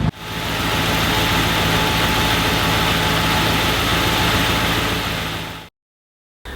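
A Land Rover 90 V8 engine runs with newly fitted electric cooling fans, a loud, steady low drone with a constant whine layered in. It stops abruptly near the end, leaving a moment of silence.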